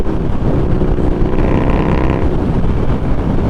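A motorcycle engine drones steadily at speed, buffeted by heavy wind rush, loud and unbroken.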